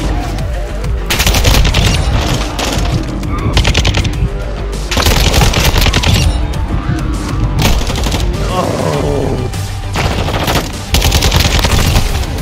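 Continuous loud gunfire in Modern Warfare 2 team deathmatch, dense bursts of automatic fire broken by a few short pauses, with game voices and player talk under it.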